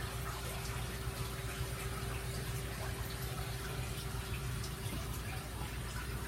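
Water flows steadily through the filtration plumbing of a 1200 gallon aquarium, bulkheads feeding a siphon break and a 180 gallon sump tank, producing a constant dense rushing wash with an electrical hum beneath and no voices.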